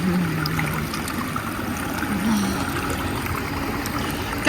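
Cold mountain stream water flows steadily over rocks in an even, close rushing wash that runs throughout, with no voices over it.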